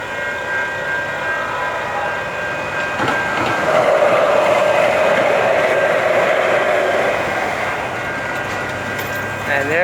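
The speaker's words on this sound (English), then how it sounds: "That's the blue line going to Long Beach." A Los Angeles Metro Blue Line train heading to Long Beach rolls past on the street, a steady loud rumble and rail squeal with a high whine building in the middle, heard outdoors.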